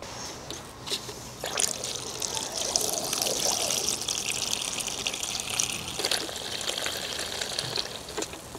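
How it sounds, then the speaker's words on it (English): Water is poured into seed trays to water newly sown seeds, making a steady, close trickling and splashing that runs throughout with no speech. "Next I'm going to fill the trays with water to water the seeds"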